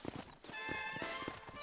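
A horse's hooves clip-clop at a steady trotting rhythm in the Red Dead Redemption video game, close and clear and mixed with faint game ambience.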